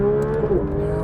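A Porsche 992 GT3 RS screams up through the revs toward 9000 rpm in second gear on a race track: a loud, sustained, rising engine whine with tire noise, heard from inside the car.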